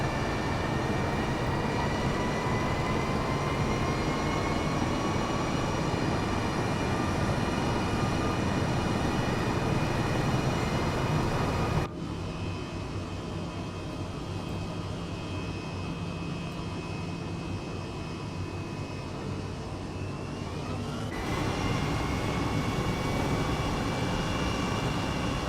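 Aircraft engine roaring loud and steady throughout a straight-up takeoff and climb, with a brief shift in tone partway through before the full roar returns.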